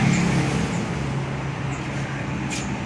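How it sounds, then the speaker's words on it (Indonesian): Roadside traffic with cars and motorbikes passing close by, a continuous loud rumble of engines and tires with no voices. "Emang gini bising, kebanyakan suara mobil,"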